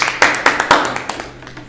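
Audience applause at a discussion event on women's career breaks and childcare, a short burst of close, sharp hand claps from a small group, fading out within two seconds.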